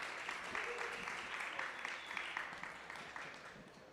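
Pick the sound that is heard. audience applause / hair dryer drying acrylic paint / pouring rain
audience applause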